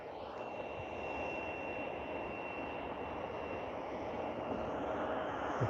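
KLM airliner taxiing out for departure at Vancouver International Airport, a steady distant engine whine with a faint high tone, low and even throughout, no voices.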